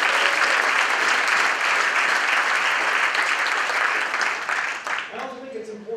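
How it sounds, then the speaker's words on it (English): Applause at a formal distinguished service awards event, a large audience clapping steadily and fairly loud for several seconds, fading as a voice begins speaking at the close. "please join me in a round of applause for them"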